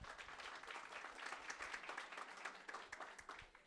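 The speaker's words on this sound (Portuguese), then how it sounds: "Por favor, um aplauso para o Marcelo." A conference audience at a panel on gender equity and diversity in football applauds steadily, a dense, even wash of clapping from many hands heard at a moderate distance throughout.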